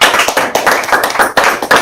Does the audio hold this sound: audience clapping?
yes